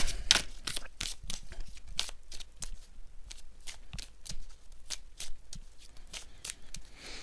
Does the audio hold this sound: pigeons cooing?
no